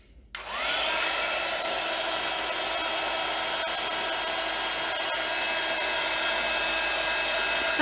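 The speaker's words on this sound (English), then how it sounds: "we'll heat emboss that with our heat tool" A heat tool blows hot air for heat embossing a floral design in gold, a loud steady whooshing hum that starts abruptly and runs unbroken to the end.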